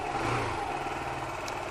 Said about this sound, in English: So backwards, engine speed goes up, forwards, engine speed goes down.